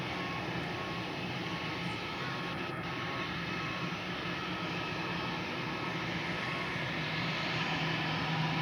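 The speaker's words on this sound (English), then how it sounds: "Our journey begins with the Air France A321 taxiing to the runway." An Air France Airbus A321 in SkyTeam livery taxis toward the runway, giving a steady, continuous jet engine rumble and whine that stays even and fairly distant throughout, with no talk.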